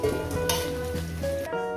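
Cumin seeds hit hot oil for a chicken curry and crackle in a brief, close sizzle that holds fairly steady for under two seconds, alone without talk.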